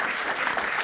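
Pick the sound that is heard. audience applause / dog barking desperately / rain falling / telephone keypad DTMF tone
audience applause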